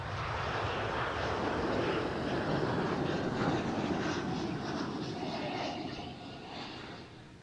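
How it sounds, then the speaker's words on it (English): An Embraer E2 jet on the Gdansk flight at Amsterdam Schiphol gives a loud, close, continuous engine roar that holds steady and then eases slightly toward the end, with no talk. "that is the flight to Gdansk on the E2"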